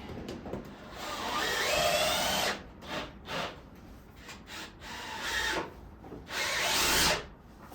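A power drill drives screws into wood while an attic ladder is installed, with several bursts of whirring motor whine that rise and stop, separated by short pauses.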